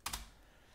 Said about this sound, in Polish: Mi akurat to pasuje, więc naciskam Enter.